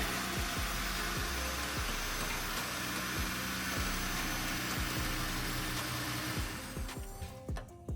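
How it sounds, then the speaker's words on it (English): A Jeep engine runs steadily after starting, a loud, constant broadband roar with a low hum and scattered mechanical ticks, easing off slightly near the end. "I'm going to need to start the vehicle and turn the wheels."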